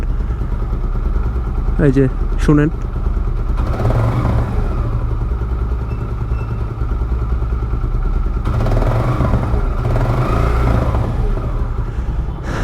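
A motorcycle engine idles indoors after a piston ring change, a steady low drone running throughout with a couple of sharp clattering knocks early on, while someone talks over it.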